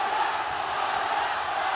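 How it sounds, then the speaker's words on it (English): A crowd roars without pause at a Muay Thai fight, a loud, dense wall of cheering and shouting that holds steady throughout. "This crowd going bananas here."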